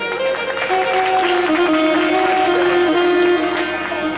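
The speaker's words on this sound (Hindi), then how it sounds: "सूर्य भगवान के लिए ताली बजाइए।" Audience applause at a Shrimad Bhagwat Katha religious gathering in Manegaon, Chhindwara, a dense steady wash of clapping lasting several seconds alongside sustained musical tones, fairly loud and even throughout.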